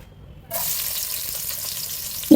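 Regular cooking oil goes into a pan of dry-fried lentils for a thin khichuri, setting off a sudden close, steady hiss after a quiet start and ending with a brief knock.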